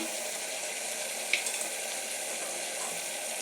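Tomatoes and onions sauté in a pan with a steady, close hiss and sizzle that holds even throughout, broken once by a brief, faint clink, with no talking.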